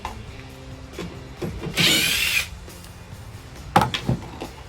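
Two 8mm bolts are worked out of the headlight housing on a Ford F-150 pickup with a power tool or wrench, a close, loud mechanical whir and scrape in one burst followed by short clicks and clunks, with no talking.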